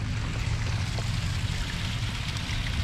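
Steady rushing water from a waterfall fills the scene, a continuous broadband roar with strong low rumble, close and even throughout, with no clear voices.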